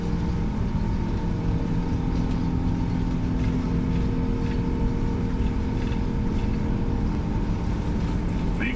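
Steady, loud low-pitched engine roar with constant tonal hum fills the scene throughout, consistent with a PMDG 777-200ER's takeoff roll in a flight simulator, with no break in the drone.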